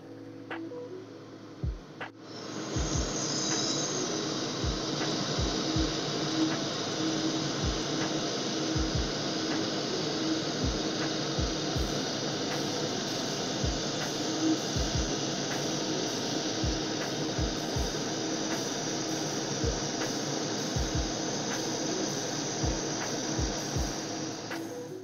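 A THEO MA1-45 handheld laser welder runs on metal with a steady, loud whirring hum that starts abruptly and holds for a long stretch, punctuated by frequent sharp low clicks and pops throughout, with no talk.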